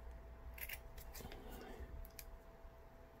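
Scissors trim cotton wick on an EVL Alien atomiser coil, a few quick close snips in a quiet room with a faint steady hum underneath.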